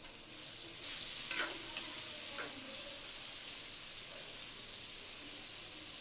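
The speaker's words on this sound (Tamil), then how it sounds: "இப்போ தக்காளி போட்டுடலாம்." Tomatoes drop into a pan of frying onions and fenugreek for a Tamil crab kulambu, then turmeric and salt are mixed in, setting off a steady bright sizzle with a couple of brief stirring knocks near the start.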